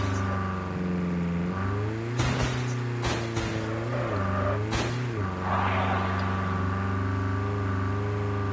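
Car driving in Call of Duty Mobile battle royale, a steady engine drone that rises and dips with throttle changes, close and sustained, with a few sharp thuds and a voice speaking at points.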